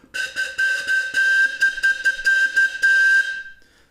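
A shrill toy whistle blows in a steady, pulsing series of short toots, loud and close, ending with a fading breathy tail.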